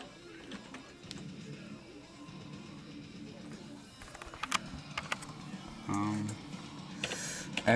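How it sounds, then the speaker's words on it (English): Typing on a computer keyboard, scattered quick clicks that grow denser and louder toward the end, with a short mechanical whir partway through. "let me type this up real quick"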